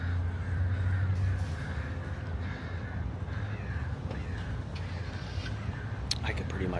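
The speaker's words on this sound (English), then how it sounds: "Got the Portland Crows barking at everybody over here." Crows caw in the distance in Portland, short harsh calls repeating over steady outdoor background noise, with faint voices nearby.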